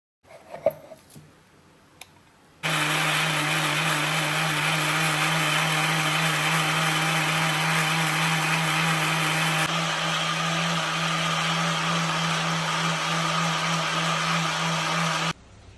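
A mixer grinder blends a thick spice paste of peppercorns without water for a jackfruit pudding, roaring steadily and loudly for about thirteen seconds after a few light clicks and handling noises, then cutting off abruptly.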